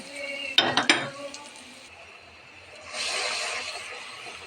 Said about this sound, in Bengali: এখন বন্ধুরা আমি মশলাটা কষিয়ে নিচ্ছি